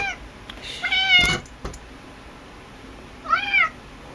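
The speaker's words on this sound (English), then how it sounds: "My cat just came upstairs and she's covered with dust from the basement." A dusty house cat meows indoors, two distinct drawn-out calls about two seconds apart with a brief knock between them, close and fairly loud against a quiet room.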